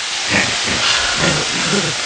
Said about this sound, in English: Let's fry something.